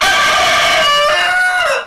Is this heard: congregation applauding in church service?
no